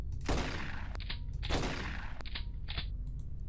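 Gunfire in the video game The X-COM Files, two loud broadband bursts of shots with sharp transients and trailing crackle, close over a steady game background.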